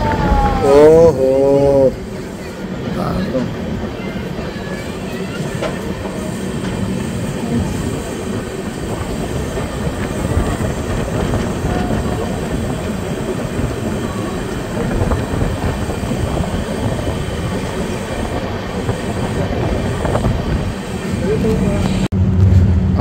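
A passenger train runs on rails into Azimganj Junction, a steady rumble of wheels and carriages sustained throughout with some squealing, while voices talk over it at times.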